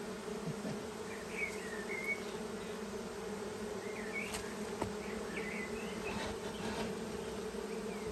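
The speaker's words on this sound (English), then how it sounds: "Oh, thank you, bees, for choosing me." A steady, continuous buzz of many bees fills the air, with a few faint bird chirps and small knocks scattered over the droning hum.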